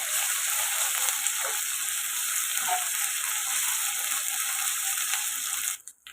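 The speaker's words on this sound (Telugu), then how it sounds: "ఒక స్పూన్ అల్లం వెల్లుల్లి పేస్ట్ వేసుకున్నాం ఇది కూడా పచ్చివాసన పోయేదాకా ఫ్రై చేసుకున్నామండి" A spoonful of ginger garlic paste fries in oil with onion for a potato and chana dal curry, giving a dense, steady, loud sizzle that runs unbroken and then cuts off abruptly near the end, with no speech.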